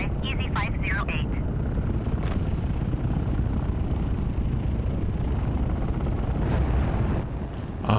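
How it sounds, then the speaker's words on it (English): A jet's roaring afterburner in Microsoft Flight Simulator on Xbox, a loud, dense, steady rumble that stays constant throughout, with faint chirps early on and a slight swell near the end. "Afterburner."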